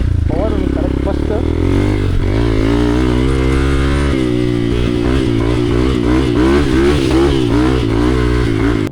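A dirt bike engine revs loudly and steadily, its rough motor drone rising and falling, while someone talks over it throughout.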